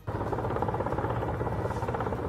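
Russian attack helicopter in Ukrainian army footage: a steady, loud rotor drone with fine rapid pulsing, continuous throughout with no voices.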